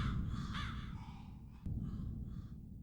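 Crows caw repeatedly against a constant low rumble, with a few harsh calls at moderate distance separated by short pauses.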